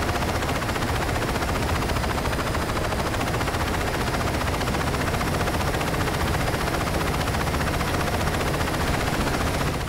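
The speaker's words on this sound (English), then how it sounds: "Now how the fuck they got an attack helicopter?" An attack helicopter in the Saints Row 2 video game roars loud and constant, its dense rotor and engine noise mixed with rapid bursts of machine-gun fire.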